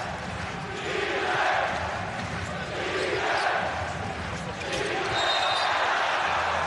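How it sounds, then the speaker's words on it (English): A large crowd at a FIBA Basketball World Cup game between Angola and the Philippines in Manila chants in a steady, rising and falling rhythm, filling the arena as a loud continuous roar. "Crowd chanting defense."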